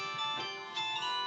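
A mobile phone ringtone goes off during a live church sermon broadcast, a steady melodic electronic tone that lasts about a second with no voices.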